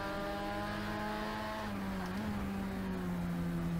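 Steady engine note of a light Lotus race car in Project Cars 3, heard close and continuous. The pitch holds and then dips slightly as the car eases off.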